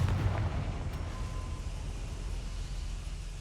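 Confringo spell explosion in the video game Hogwarts Legacy, a single deep blast at the start that fades into a low rumbling tail, with no talking.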